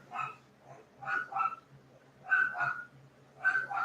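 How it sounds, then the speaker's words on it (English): A dog barks in short bursts, three clusters of two or three sharp yips and barks, moderately close with a low hum underneath. "He's barking at the guy coming."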